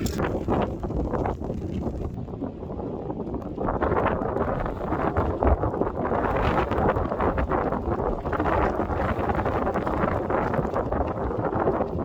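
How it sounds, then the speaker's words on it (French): Strong wind roars steadily into the microphone during a skateboard trip in France, a dense rumbling buffet that barely lets up for the whole stretch. "Ah pas ça, le vent qu'il y a"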